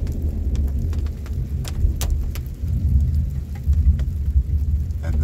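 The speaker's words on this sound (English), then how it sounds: "A little thunderstorm, a little light rain." Light rain with a little thunderstorm, a steady low rumble and patter filling the clip, with brief crackling strikes; no speech.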